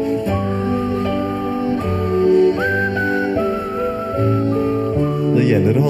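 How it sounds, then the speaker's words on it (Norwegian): A group whistles a marching melody together, sustained tones rising and stepping between notes in a steady tune, moderately loud and close, with no talk. "skal vi plystre sammen og høre hvordan det hørtes ut da de toget inn i byen sammen"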